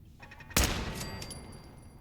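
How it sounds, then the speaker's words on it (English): A single sharp gunshot rings out in Fallout 4, loud and sudden against quiet game ambience, its echo tailing off over the next second. "what else is shooting at us?"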